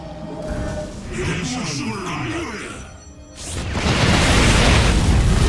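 Artanis's solar bombardment strike in StarCraft II co-op, a loud rumbling orbital barrage that swells into a sustained roaring blast over the last two seconds, following a stretch of game voice speaking over mechanical whirring.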